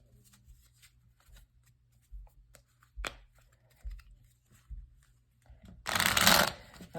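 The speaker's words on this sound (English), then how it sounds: "Let me just shuffle some of the cards." A deck of tarot cards is handled with soft taps and shuffles, then a loud riffle near the end, close up and otherwise quiet.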